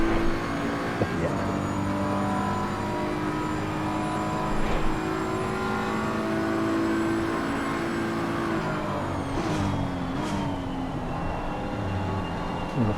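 A race car in a racing video game accelerates at Monza, its engine note climbing steadily and then shifting with rising and falling revs near the end, loud and continuous, with someone talking over it.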